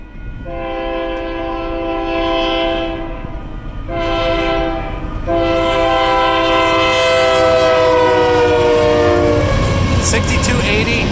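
A Union Pacific manifest freight train passes at Lindsay Road, its loud, harmonically rich horn sounding in long blasts over rumbling wheels and rail noise, close and powerful.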